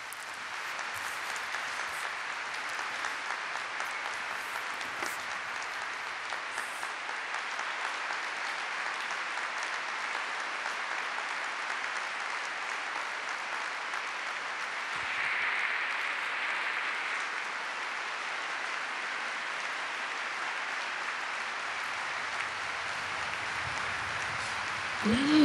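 Strong, sustained applause fills a large audience at Pope Benedict XVI's last general audience, a dense, even roar of clapping that holds steady for the whole stretch and swells slightly midway.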